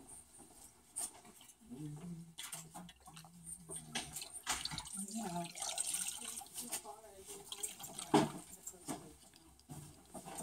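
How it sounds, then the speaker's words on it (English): Cold water runs steadily from a tap during a microdermabrasion facial treatment, a soft continuous splashing stream with brief clatter, under quiet background talk. "Again, I'm going to use cold water."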